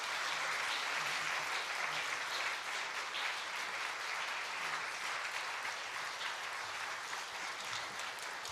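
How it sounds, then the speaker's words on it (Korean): A congregation applauds during an early-morning Thursday prayer service at a church, steady even clapping from many people that holds at a constant level throughout. "박수 한번 하도록 할까요?"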